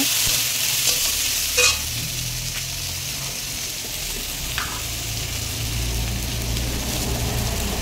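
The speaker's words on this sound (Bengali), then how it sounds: "এবারে আমি রসুন বাটাটা দেব। নেড়ে ছেড়ে নেব।" Garlic paste stirred into frying mutton curry with papaya, steady sizzling under a spoon scraping the pan, with a couple of sharper clinks and no talking.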